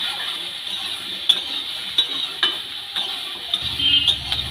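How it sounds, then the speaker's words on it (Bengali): Vegetables with turmeric and salt frying in a pan, a soft steady sizzle with occasional clicks of a spatula stirring, close and fairly faint, with no voices. "হলুদ লবণ দিয়ে সবজিটাকে ভেজে নেব।"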